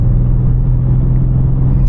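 BMW G87 M2 with its S58 engine at half throttle, a steady, loud low rumble with a strong droning tone held throughout and no voices.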